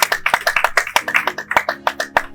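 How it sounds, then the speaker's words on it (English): A round of applause at a celebration, a small group clapping in uneven bursts with distinct sharp hand claps, loud and close, while voices murmur underneath. "Another round of applause, ladies and gentlemen."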